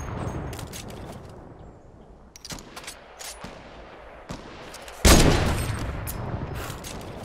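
Sniper rifle shots ring out in a Fortnite match, scattered sharp cracks over game ambience, with one loud, close blast near the end.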